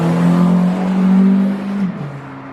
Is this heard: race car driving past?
yes